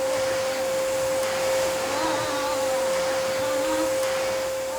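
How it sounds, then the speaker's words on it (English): A household vacuum cleaner runs steadily with a constant whine and broad airy roar, close and loud throughout, with no voices. "When the vacuum is turned on"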